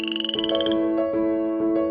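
A night frog croaks close by, a rapid pulsing trill followed by several short, rhythmic tonal calls, loud and clear with no talking.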